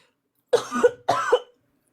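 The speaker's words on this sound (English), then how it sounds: "I fucking hate dry coughs, man." Two dry, hacking coughs in quick succession, close and fairly loud, each a short double burst, then silence.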